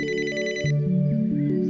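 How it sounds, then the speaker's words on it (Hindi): A mobile phone ringtone plays a steady electronic tone, then shifts into a stepped melody of sustained notes, loud and close, with no one speaking over it. "अरे मखनी जी का फोन।"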